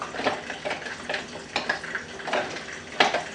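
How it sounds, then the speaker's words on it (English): Garlic paste stirred in a pan for an eggplant peanut curry, with soft irregular scrapes and light sizzling taps recurring every half second or so, close and moderately quiet, no talking. "Give it a good stir."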